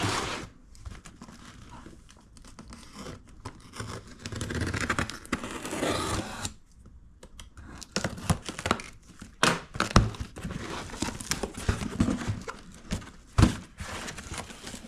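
Packaging of a shipped box holding Mitutoyo digital calipers being opened in a workshop: close cardboard scraping, crinkling paper and plastic, tearing and occasional thunks in irregular bursts, with no talk.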